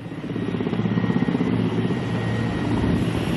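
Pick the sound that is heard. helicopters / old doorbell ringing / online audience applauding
helicopters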